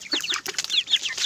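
Backyard chickens cluck and squawk in quick, close bursts while being fed lettuce, loud busy chatter with no voices.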